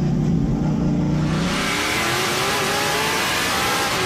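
Stock cars in the 2021 NASCAR Pinty's Series race at La Fernandière, engines roaring loud and close, a heavy low drone giving way to a broader, receding whine as the pack passes.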